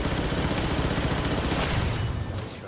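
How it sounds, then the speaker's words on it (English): Dense, continuous barrage of blaster fire from a turret in the Star Wars Battlefront 2 video game, loud and sustained throughout with layered booms and crackling shots, no talking. "He has a blaster turret, nope."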